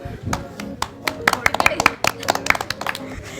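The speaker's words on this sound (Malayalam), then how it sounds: "അപ്പോൾ നല്ലൊരു ക്ലാപ്പ് കൊടുക്കൂ" An audience claps in a short, uneven burst of sharp hand claps that thickens toward the middle. A voice is heard along with it.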